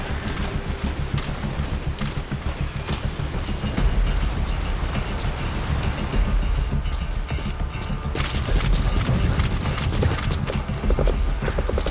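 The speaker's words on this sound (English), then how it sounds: "Caution, rain approaching." Steady rain in Metal Gear Solid V: The Phantom Pain, a dense, constant patter of drops with clattering, hoof-like knocks and mechanical noises mixed in, loud and continuous throughout with no talking.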